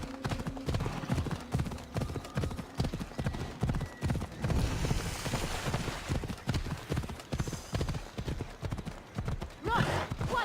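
Horses in Assassin's Creed Odyssey running on open ground, fast rhythmic hoof clip-clops close by with an occasional whinny, while character voices talk over the galloping.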